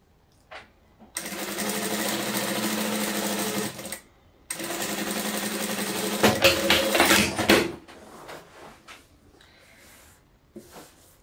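A sewing machine stitches a patchwork table runner with a backstitch, running loud and close in two long continuous whirring stretches, the second ending in a brief rougher burst before it stops, followed by quiet handling noise.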